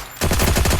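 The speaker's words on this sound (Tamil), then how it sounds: "ஐயோ, புல்லட் சத்தம் கேட்குது" Automatic gunfire in the Free Fire video game, a rapid loud burst of shots that starts abruptly and continues as a dense, evenly spaced rattle, with no talk.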